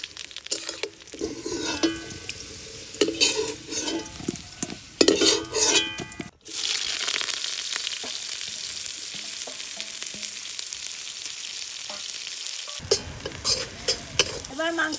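Potatoes frying in hot oil give a loud, steady sizzle, with stirring clatter and a spoon clinking against the pan at the start and end, close up and without talk.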